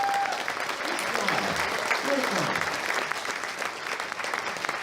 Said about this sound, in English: Do we have a big round of applause for Mike Howard?